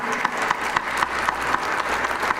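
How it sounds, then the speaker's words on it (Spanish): Brief, steady applause from an audience at a forum on Mexican pension funds held at the Chamber of Deputies, following a presentation. The clapping is fairly close and shows a slightly pulsing rhythm. "Un aplauso, por favor,"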